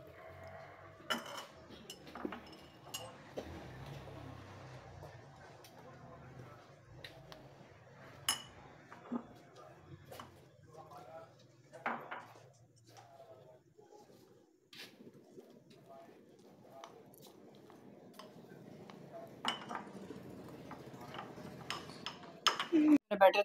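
Spices and batter get stirred in a bowl, giving scattered light clinks and scrapes of a utensil against the dish at irregular intervals, soft and close, with occasional talk and faint background noise.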